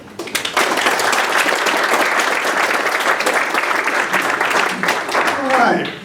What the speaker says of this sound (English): Let's give a warm round of applause to David